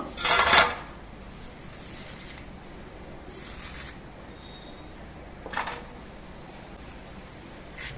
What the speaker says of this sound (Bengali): এবার এই আমটা আমি লম্বা লম্বা পিস করে কেটে নেব